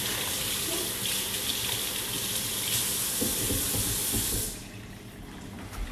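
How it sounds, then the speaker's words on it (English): Water runs steadily from a faucet while hands are washed, a constant close hiss and splash that continues for several seconds before tapering off. "we're going to want to wash our hands"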